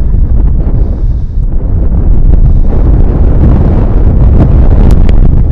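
Heavy wind buffeting the microphone on a golf course, a loud, low rumbling roar with gusty swells and rustling, continuous throughout with no talk.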